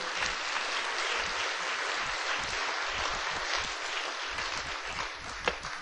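Steady applause from an audience at a religious gathering, sustained clapping filling the space evenly for several seconds with no talk over it.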